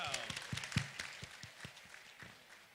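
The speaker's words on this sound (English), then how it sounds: "Let's give a round of applause to our lovely couple." Wedding guests give a short, faint round of scattered claps for the couple after a speech, with distinct individual hand claps thinning out over a few seconds.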